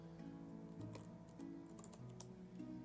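Keys tap on a lit-up computer keyboard in quick, irregular clusters of clicks, faint and close, over steady background game music.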